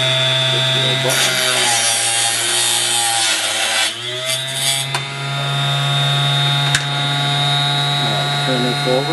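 A homemade arrow saw spinning at 7,800 RPM cuts through an arrow shaft, giving a steady whining motor hum under rough rasping bursts as the blade bites, close and loud throughout.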